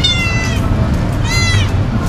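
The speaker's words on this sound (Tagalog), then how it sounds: "Ay, Diyos mio, napakaliit pa ng pusa nun." A very small kitten gives two thin, high meows about a second apart, close and clear over a steady outdoor background hum.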